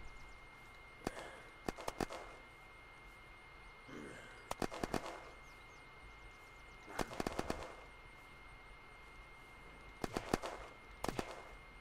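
Bursts of gunfire from a weapon in the survival game Unturned, in short clustered volleys roughly every few seconds over a low steady background.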